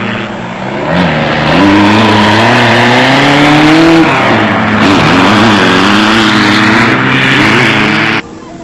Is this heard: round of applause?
no